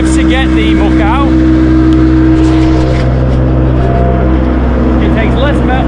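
A tractor engine drones loudly while spreading muck on a farm, steady throughout with a deep low rumble, joined by occasional rising whine, with voices and other noise partly mixed over it.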